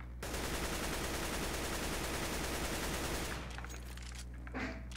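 A continuous full-auto AK-47 spray in CS:GO, a dense, loud rattle of rapid shots for about three seconds, then stopping, followed by faint shell and movement sounds.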